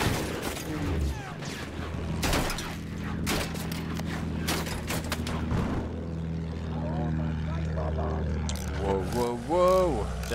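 A propeller warplane drones overhead in a first-person military shooter, a steady engine hum running beneath frequent gunshots and players talking over the action.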